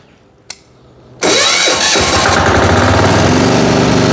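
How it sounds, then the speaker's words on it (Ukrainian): A Motor Sich diesel walk-behind tractor in minus 7 degree cold gives a faint click, then cranks and catches abruptly, settling into a loud, steady, close-up diesel chug. "Ось так працює дизельна техніка від виробника Вейма."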